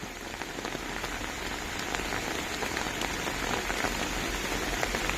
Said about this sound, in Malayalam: നല്ല മഴയാണ് കണ്ട് ആസ്വദിച്ച് ആസ്വദിച്ച് പോകുന്നു